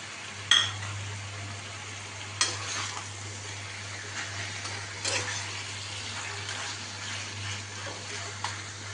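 A hilsa fish head goes into a pot of simmering taro greens, giving a soft steady sizzle with a few sharp clinks and clatters of stirring, close and fairly quiet.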